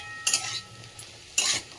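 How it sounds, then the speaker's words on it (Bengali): Fried vegetables, chicken, prawns and egg stirred together in a pan, with two bursts of scraping, sizzling stirring against a quiet background hum and faint sizzle in between. "এর মধ্যে যে চিকেন আর চিংড়ি মাছ, ডিম সব ভেজে রেখেছিলাম, ওটাও দিয়ে এবার সবটা মিশিয়ে নিচ্ছি।"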